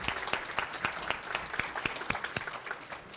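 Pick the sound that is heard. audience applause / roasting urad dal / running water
audience applause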